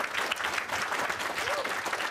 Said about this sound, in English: I'd like to give a round of applause to our teachers